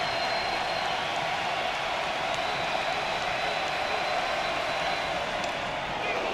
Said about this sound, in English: We'll let the crowd tell you what happened.